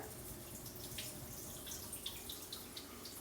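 Rice is swished and rinsed in water, soft sloshing and trickling with small scattered splashes, quiet and close, no voices.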